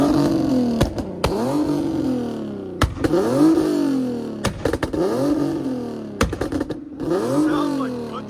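A 3.7L V6 Infiniti Q50 with no catalytic converters and Invidia mufflers revs repeatedly, each rise and fall of the exhaust note punctuated by loud, sharp pops and crackles, close and aggressive.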